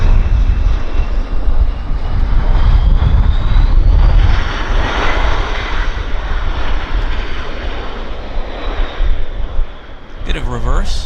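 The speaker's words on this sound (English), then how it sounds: "Bit of reverse. Not much necessary. Small airplane." A small airliner rolls out on landing at Vancouver Airport, its engines roaring loud and steady with a brief, light burst of reverse thrust before easing off; a voice speaks briefly over the tail end.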